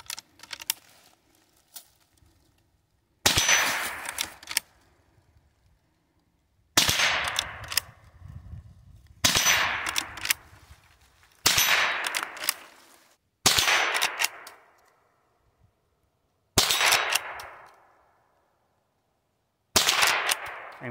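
Henry lever-action .22 youth rifle fired at targets outdoors: about seven sharp, loud single shots spaced a few seconds apart, each with a short decaying tail and quiet gaps between.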